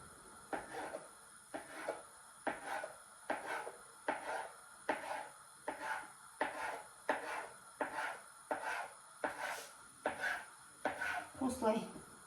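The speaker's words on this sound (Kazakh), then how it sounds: "Осылай жіңішкеретіп турап аласыздар." Dough for yeast-free baursak being sliced into thin strips, a steady series of about a dozen evenly spaced knife strokes against a board, close and fairly quiet, with a quick flurry of cuts at the end.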